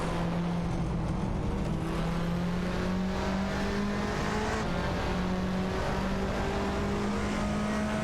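Touring cars in a video game race, a Honda Civic FA and a Lada Vesta among them, with steady engine drone and shifting revs of several cars running close, loud and continuous with no talk.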